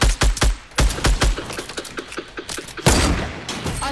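Shots ring out in a Fortnite match: a series of sharp, loud sniper rifle cracks in close succession, each a punchy transient, followed by further scattered gunfire.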